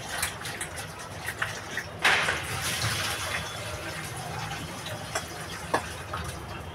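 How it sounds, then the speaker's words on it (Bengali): An eggplant is washed under running water in a home kitchen, a steady gentle trickle and splash with a few louder splashes and clinks, close and moderately quiet, with no talk. "বেগুনটা ধুয়ে নেব।"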